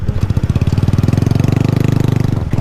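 A motorcycle fitted with a TSK racing exhaust, a tuned cam and the stock ECU idles close up with a loud, fast, evenly pulsing throb that holds steady for a few seconds, with no voices.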